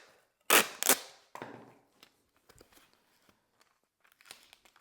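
Packing tape pulled off a roll while packing metal art for shipping: two loud sharp ripping bursts close by, then a shorter tearing sound and faint scattered crinkles and taps.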